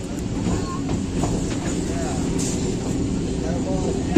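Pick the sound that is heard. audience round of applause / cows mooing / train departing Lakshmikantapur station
train departing Lakshmikantapur station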